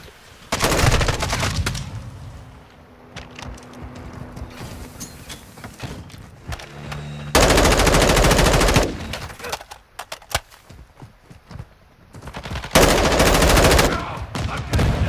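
M4 rifle fire in a Call of Duty Modern Warfare 2 match on the Shoothouse map: loud, dense bursts of automatic gunfire in three long stretches, with weapon handling clicks and quieter shots between them.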